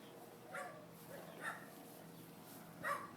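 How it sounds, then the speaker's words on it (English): A neighbor's dog barks from a backyard in Houston, three short, faint yips spaced about a second apart and heard at a distance. "That's our neighbor dog in the backyard."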